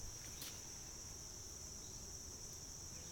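Honeybees fanning at an opened hive, a steady faint high buzzing drone held throughout with no voices.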